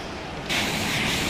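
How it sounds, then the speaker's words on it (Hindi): Steady, loud rushing roar of fast-flowing river water on the way to Kalam valley in Swat, a broadband wash that swells louder halfway through and stays constant, with no speech over it. "कितनी स्पीड से पानी बह रहा है"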